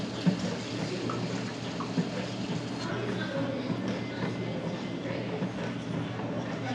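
Running water rinsing off a water test item: a steady, close, fairly loud wash of flowing water fills the whole stretch without breaks, with no talk over it.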